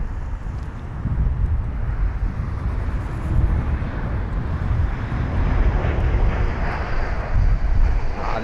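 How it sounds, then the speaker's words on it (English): A Delta Airbus A330-900 airliner roars on Heathrow's runway 27, a broad, loud, sustained jet rumble with wind buffeting that holds steady and swells slightly toward the end. "I believe it's going to be the Delta 330-900 after"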